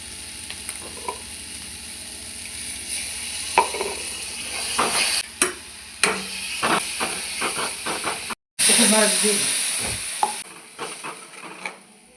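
A paste of ginger, garlic and char magaj fries in hot oil, giving a steady close sizzle and hiss with scattered crackles. The sizzle cuts out briefly, then surges back louder.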